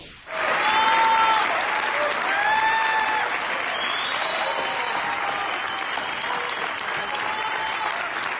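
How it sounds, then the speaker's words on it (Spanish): A crowd at a political event breaks into loud applause for Anaya, which swells quickly and holds as steady, dense clapping, with whistles and shouts rising above it at times. "aplausos a Anaya como si hubiera ganado"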